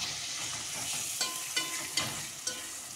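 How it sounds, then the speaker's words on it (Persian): Ground meat frying in oil in a pan, giving a steady close sizzle with a few sharper pops and stirring scrapes, no voices. "تو ظرف دیگه‌مون گوشت چرخ کرده رو میریزیم و تفت میدیم"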